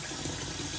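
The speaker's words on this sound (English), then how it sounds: "Now let's fill the sink up with a little bit of water." Water runs from a tap into a bathroom sink fitted with a newly replaced chrome P-trap, a soft, steady rush heard alone at low level.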